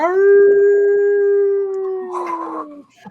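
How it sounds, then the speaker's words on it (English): Ancient hound-like creatures made of shadow bay in a long, loud, sustained howl that slowly falls away, ending in a brief rough snarl. "you hear the baying of ancient hounds"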